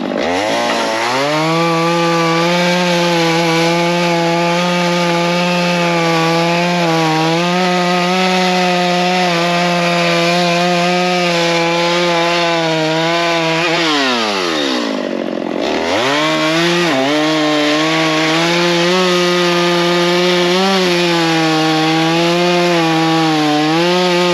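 A Stihl MS250 chainsaw idles and revs loudly and steadily during carburetor tuning, its harmonic engine whine holding high before a brief dip in revs near the middle, then climbing back to full speed.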